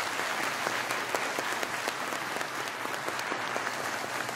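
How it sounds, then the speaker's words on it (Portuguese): A congregation applauds church volunteers at an inauguration service; dense, steady clapping fills the room for several seconds, with a few sharper individual claps standing out from the crowd. "mais uma salva de palmas para todos eles"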